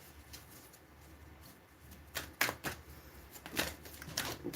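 A deck of tarot cards shuffled by hand at a reading, giving soft papery riffles and flutters that start quietly and build into several louder bursts near the end, with no talking.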